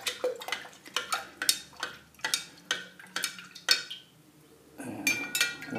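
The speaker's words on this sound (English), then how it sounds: "stir that again briskly" A utensil briskly stirs a water solution in a glass, producing a rapid series of sharp, close clinks against the sides, pausing briefly before a final flurry of lighter swishing and tapping.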